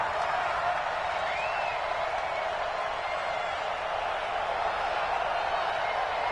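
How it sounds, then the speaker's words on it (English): Stadium crowd noise inside a domed arena in a PS4 football game, a steady, loud wash of roaring fans throughout with no pauses. "The crowd here in the dome making things difficult."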